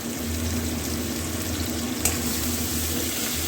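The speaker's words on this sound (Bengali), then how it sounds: "এগুলো একটু ভালো করে ভাজা ভাজা করে করছি।" Onion, capsicum and green chilli fry for bhetki chilli fish in a pan, giving a close, constant sizzle with soft stirring and one small scrape partway through.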